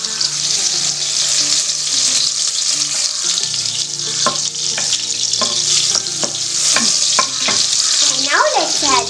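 Food fries in butter with salt and turmeric while being stirred: a steady loud sizzle with scraping and clinking strokes of the spoon against the pan, close up and without speech.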